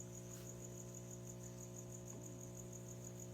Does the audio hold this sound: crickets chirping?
yes